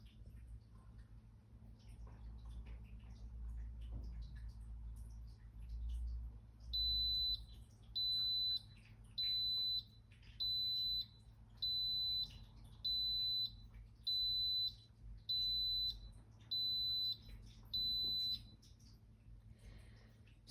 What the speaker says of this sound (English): Looks like the timer is going to be going off really soon. So we're just going to wait for that beep,